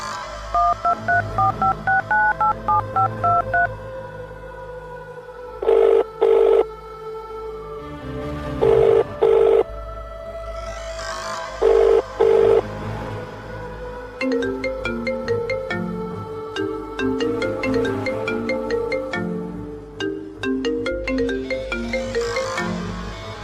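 Mobile phone keypad tones dial a number, a short series of beeps over a backing melody, followed by repeated electronic ringtone bursts while the call connects.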